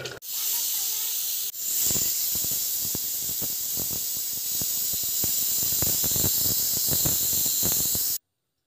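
Pressure cooker whistling and hissing with released steam while sambar cooks, a steady loud broadband hiss holding for about eight seconds with a brief dip near the start, overlaid with faint clicks.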